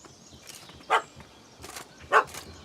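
A dog barking in The Witcher 3 video game, two sharp, separate barks about a second apart over quiet game ambience, with fainter yips in between.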